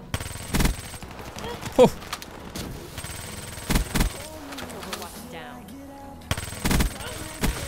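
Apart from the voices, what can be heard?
Vesper gun firing in video game Black Ops 3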